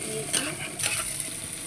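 Potatoes and okra frying together in a pan, a steady sizzle with a couple of scraping stirs and a light clink of a utensil against the pan.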